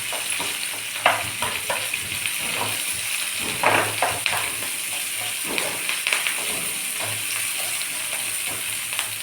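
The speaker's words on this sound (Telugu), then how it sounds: "ఉల్లిపాయ ముక్కలు కొంచెం సేపు వేయించుకోవాలండి" Onion pieces fry in a pan with a steady close sizzle, broken up by scraping stir strokes.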